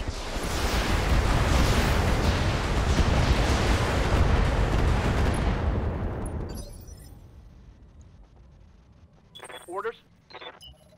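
Weapons fire and explosions strike a target in a combat game as a loud, sustained roar of blasts that fades out after about six seconds, leaving quiet followed by a few short electronic beeps and chirps.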